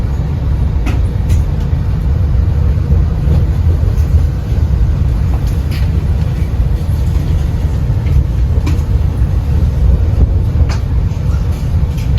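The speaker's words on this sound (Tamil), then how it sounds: "இது ஒரு பெரிய ரயில் ஸ்டேஷன்." A loud, continuous low rumble of a train fills a large station, with occasional clanks and faint voices in the background.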